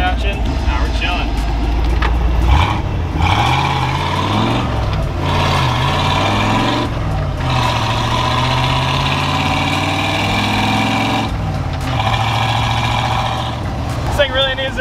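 A 1986 Ford F250 truck engine running with no exhaust fitted, a loud, rough, tractor-like idle with a throbbing low drone and pitch that rises and falls through a few light revs, close and steady throughout.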